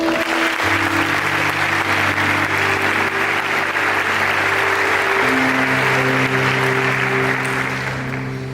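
Sustained applause from a large church congregation, loud and steady throughout, with sustained organ-like musical tones underneath.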